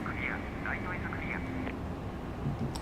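Both engines of a Fenix Airbus A320 run in Microsoft Flight Simulator, giving a steady, even roar with a faint high whine while someone talks over it.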